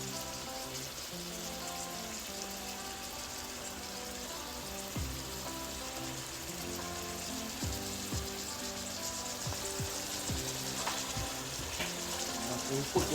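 Ackee cooking in a pot with black pepper added, a steady soft sizzle and bubbling running throughout, with occasional scraping and clinking of stirring near the end.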